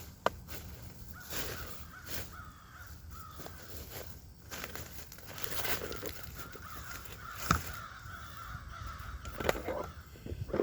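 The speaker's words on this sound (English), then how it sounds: "I hear some crows over there" Crows caw repeatedly from a distance, harsh calls scattered over steady background noise with some louder bursts.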